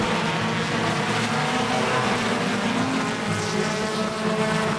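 Stock cars race around a track during a short-track feature race, a dense continuous engine roar filling the air without a break, heard from some distance with no voices over it.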